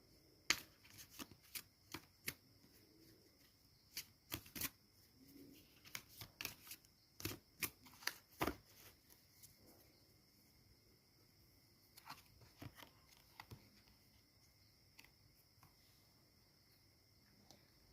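Tarot cards are shuffled during a card reading, giving quiet, irregular riffles, snaps and soft slaps that come in clusters and then thin out, with no voice.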